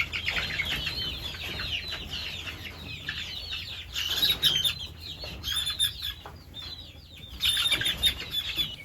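Hens inside a backyard chicken coop flap their wings in repeated loud bursts, mixed with soft clucking and scratchy rustling close by, with no talking.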